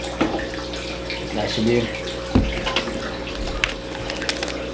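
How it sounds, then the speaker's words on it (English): Water runs from a tap into a fish medicine container for a backyard pool pond, a steady splashing flow under a man's brief speech. "I'm going to get some water in here first."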